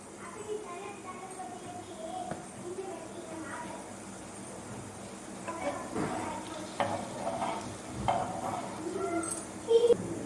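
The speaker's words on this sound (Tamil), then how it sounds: "இப்போ பார்த்திங்கன்னா வந்து தக்காளி நல்லா வதங்கட்டும்" Tomatoes sautéing in a pan for mushroom biryani, a soft sizzle broken by occasional stirring scrapes that grow busier toward the end, with faint voices in the background.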